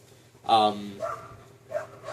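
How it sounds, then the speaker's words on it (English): A few dog barks ring out in the background, spaced irregularly over a couple of seconds, faint and somewhat distant. "Sorry for the dogs outside."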